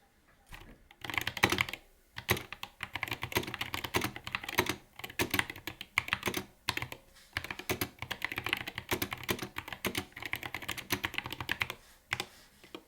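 Fingers type on an MX Mechanical Mini keyboard fitted with red switches, bursts of quick, close keystrokes clattering in uneven runs with short pauses between them, no voices.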